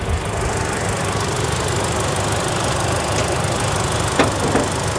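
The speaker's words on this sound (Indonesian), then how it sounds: "coba didengar. Suara mesinnya masih halus kan?" Car engine running smoothly at a steady idle, a close, even hum with no knocks or surges, continuous and alone for the whole stretch.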